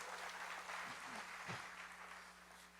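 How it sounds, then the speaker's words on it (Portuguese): Church congregation clapping during a Portuguese-language service, a soft, fairly distant and even patter of applause over a steady low hum, with a brief voice murmur in the middle. "Aplauda ao Senhor, glorifique ao Senhor."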